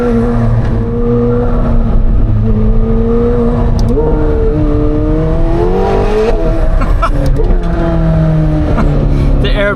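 A McLaren 750S sports car drives along a road, its engine note climbing and shifting through several gear changes. The sound is heard from inside, with a person talking over it.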